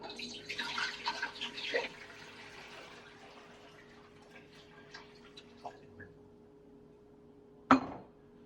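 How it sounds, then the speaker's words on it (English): Cold water runs from a tap into a large pot as a faint splashing hiss that is strongest at the start and then fades into a quiet steady trickle, ending with a sharp clunk near the close. "We're going to add some cold water."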